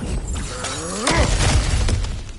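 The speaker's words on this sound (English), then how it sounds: "back to smashing through things for fun and profit" Breakable objects shatter and crash in God of War Ragnarok, a burst of splintering and smashing debris near the middle, with a short rumble and scattered breaking bits trailing after, no talk.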